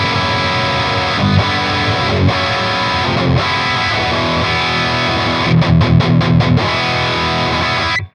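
Electric guitar played through a Friedman BE-100 Deluxe amp with the presence knob near eleven o'clock, giving dense distorted chords that ring on steadily, with a quick burst of choppy muted strums toward the end.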